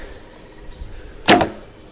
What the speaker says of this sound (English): Hear the twang.